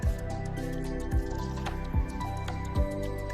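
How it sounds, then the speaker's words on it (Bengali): Mutton with fried onions is stirred in a pot, giving a thick, wet squelch that repeats about every second, close and fairly loud over a steady tonal background. "দিয়ে আমি মাংসটা ভালো করে নেড়ে দিব।"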